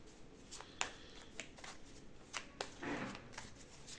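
Baralho cigano (Gypsy) cards being shuffled by hand, giving a few separate crisp riffles and flicks spread across a quiet room, close and fairly soft, with no voices.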